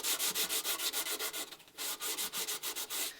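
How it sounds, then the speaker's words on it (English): Steady rhythmic scratching of 80-grit sandpaper rubbed back and forth over the wooden breasthook of a Catalina Wherry boat, close and continuous with a brief pause midway. "There'll be more sanding that needs to get done because that's just 80 grit."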